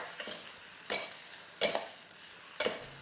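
Rice noodles with bean sprouts being stir-fried in a wok over medium heat, four soft scraping, tossing strokes roughly a second apart over a faint sizzle, with no voices.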